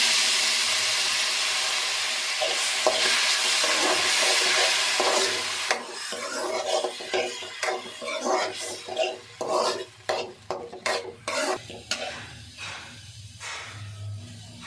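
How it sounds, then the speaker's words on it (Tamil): Tomato paste sizzles loudly in hot oil for okra kara kulambu, first as a steady hiss, then broken by repeated stirring scrapes and bursts of frying from a spoon in the pan. "அரைச்சி வச்ச தக்காளி பேஸ்ட்டு சேர்த்துக்கலாங்க."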